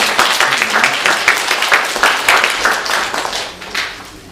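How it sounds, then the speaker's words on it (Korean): A church congregation claps together at a Sunday service to celebrate four birthdays, a loud, close burst of many hands with rhythmic pulses that gradually eases off near the end. "우리 네 분 다 같이 박수로 축하하도록 하겠습니다"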